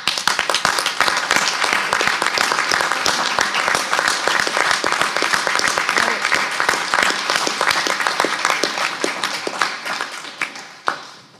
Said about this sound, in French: Et je voudrais qu'on les applaudisse.